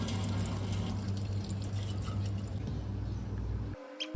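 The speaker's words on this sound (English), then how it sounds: "You use tap water to wash the bottle" Tap water runs steadily from a faucet to rinse a bottle, a continuous hiss and splash that stops abruptly near the end, followed by a brief clatter.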